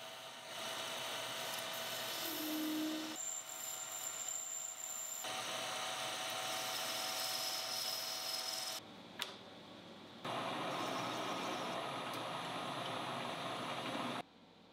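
Lathe turning down the end of a metal part for a male thread, a sustained machining hum that runs in long stretches, breaks briefly around the middle with a small knock, then resumes before cutting off near the end.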